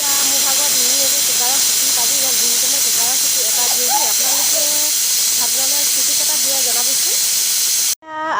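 A pressure cooker cooking rice on a gas stove gives off a loud, steady hiss of escaping steam for about eight seconds. Faint voice-like tones sit underneath, and the sound then cuts off abruptly.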